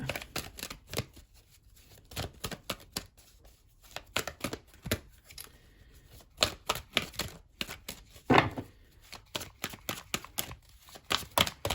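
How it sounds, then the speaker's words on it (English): A deck of tarot cards is shuffled repeatedly, bursts of quick riffling clicks and slaps coming in uneven rhythm, close by and fairly crisp. "Shuffling the deck"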